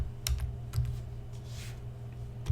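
Computer keyboard typing of a command during an Arch Linux install, a short run of quick close keystrokes over a steady low hum, with no speech.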